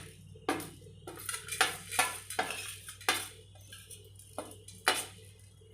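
Whole spices such as fenugreek, cloves, cardamom, cinnamon, cumin and pepper dry roasting in a pan for Mangalore-style chicken ghee roast, with a spoon stirring and scraping in a series of sharp, close metallic clinks and rattles.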